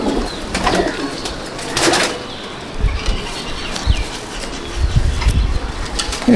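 A pigeon flaps its wings in short rustling bursts at a loft, close and fairly loud, with soft background noise between the flurries.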